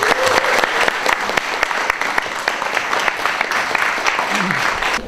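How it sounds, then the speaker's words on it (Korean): Crowd applause at a political party's provincial branch launch in Chungbuk keeps up a steady rain of dense clapping with sharp individual claps standing out, loud and sustained for the whole stretch. "우리 다시 한번 박수 한번 부탁드립니다"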